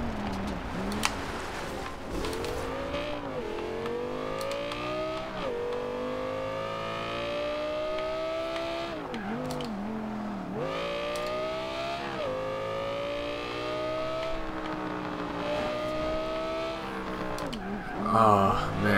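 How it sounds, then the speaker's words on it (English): A 2013 Audi R8 revs hard in Forza Horizon 2, its engine note climbing and falling in repeated sweeps, with exhaust crackle as the throttle lifts at high RPM and a louder burst at the end. "Oh man, just listen to it when I let off at high RPMs. Oh, I just love that crackle."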